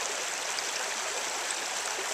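A farm creek runs past frozen water shelves, a steady close rush of flowing water with no pauses and no voices.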